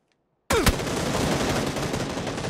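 Sustained rapid gunfire from a window in PUBG on Xbox One bursts in after a half-second of silence and keeps going, loud and continuous.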